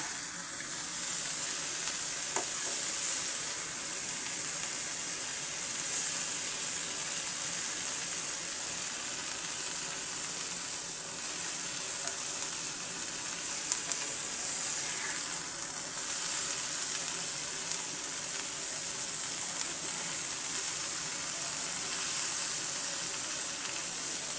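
Bitter gourd (karela) stir-fry sizzling in a pan, a steady, even hiss that runs unbroken throughout with faint stirring scrapes.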